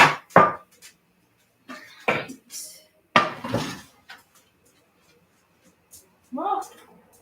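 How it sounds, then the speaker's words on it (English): Metal pans clatter and clank in several separate bursts, with pauses between them, close by in a quiet kitchen. "the frying pan would be good too."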